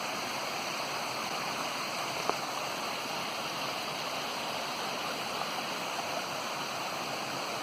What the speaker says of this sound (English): you can just see the water pouring down through the woods